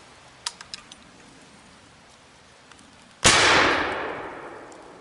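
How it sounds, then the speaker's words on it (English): A flintlock canoe gun fires a single loud outdoor report after a few faint clicks, its sharp crack trailing into a long, fading rumble. "the second shot, this one being with the canoe gun"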